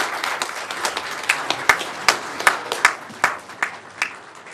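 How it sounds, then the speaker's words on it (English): Sparse applause from a small group at a county commissioners' meeting honoring kids and families, a scattering of distinct claps with a few louder sharp ones, close and without talk. "So a round of applause for our kids and families today."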